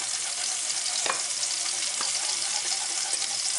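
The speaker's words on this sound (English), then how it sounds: "You wanna whisk this all together well." A newburg sauce being whisked in a pan with paprika, cayenne, nutmeg and sherry, heard as a steady wet sizzling bubble with faint metallic whisk scrapes, close and continuous with no talking.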